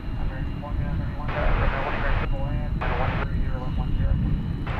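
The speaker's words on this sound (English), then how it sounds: "Incoming. American 2213 from Los Cabos, Mexico. Airbus A321." An Airbus A321 airliner arrives at an airport at night, a loud broad engine roar with whining tones rising and falling steadily throughout, heard from the ground among plane spotters.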